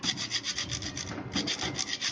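A rusty exhaust motor cover being cleaned by scraping: a rapid, rhythmic back-and-forth rasp, close and steady, with one brief pause midway and no talking.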